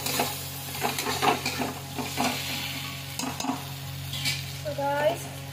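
Pointed gourd and chopped onion frying together in a pan with red chilli powder, giving a steady soft sizzle with occasional stirring scrapes, close and moderately loud.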